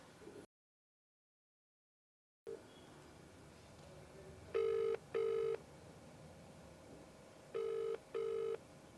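A phone call rings out during a Telugu television counselling program, two pairs of short, evenly pulsed electronic trills separated by a pause, clear over a faint hiss after a brief silent gap.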